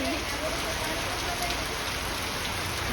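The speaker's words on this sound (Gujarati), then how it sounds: "એટલું વરસાદ આવે છે બહુ" Heavy rain pours down in a steady, dense hiss, loud and unbroken throughout with no other sounds standing out.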